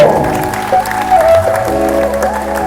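An audience at a Kuruba community felicitation ceremony claps loudly, a close, busy burst of applause heard over sustained tonal music or a drone that runs underneath throughout.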